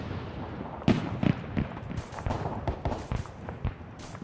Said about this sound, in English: You're hearing their heavy cannons going off right now.